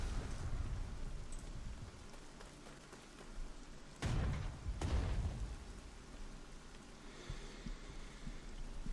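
Rain falling in a WWII strategy video game, a steady dense hiss of drops with low rumbling booms in the background and two brief heavier bursts midway.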